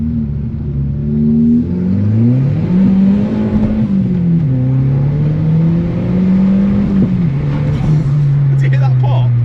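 Modified VW hot hatch driving with a droning engine that rises and falls through gear changes, with a brief exhaust pop near the end and people talking inside the cabin.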